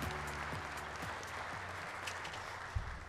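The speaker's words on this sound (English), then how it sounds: "Please give him a big round of applause." Audience applause greets a presenter at a government policy briefing on the administration's five-year roadmap: a steady, dense wash of clapping fills the room throughout, with a faint low hum beneath.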